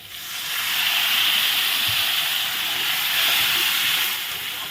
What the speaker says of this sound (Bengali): এখন একটু আমি জল দিয়ে দেবো